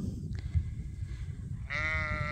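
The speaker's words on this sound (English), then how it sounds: "after being out with the sheep in the fields" A sheep out in a field gives one drawn-out bleat near the end, over a steady low background rumble.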